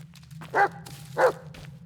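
A dog barks twice inside the Blair Witch video game, two short, clear woofs about half a second apart over a low steady hum, with no talk.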